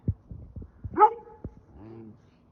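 A dog gives a few short barks and yips, with a higher whining yelp in the middle, fairly close and unaccompanied by talk.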